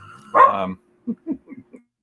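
A dog gives one drawn-out bark, then a short run of four quick, softer yips in a quiet room, close and alone.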